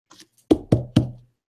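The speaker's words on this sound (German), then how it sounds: "Klopfen wir mal auf Holz." Someone knocks on wood three times, crisp and close, in an even rhythm, preceded by faint soft taps.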